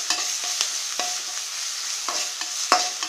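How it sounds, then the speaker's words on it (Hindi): Ginger and green chilies dropped into popping mustard seeds in hot oil, a close sizzle punctuated by sharp spoon scrapes and taps against the pan every half second or so. "राई फूटने लगी है, इसी समय हम इसे अदरक और हरी मिर्च डाल देंगे।"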